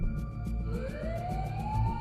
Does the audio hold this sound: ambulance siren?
yes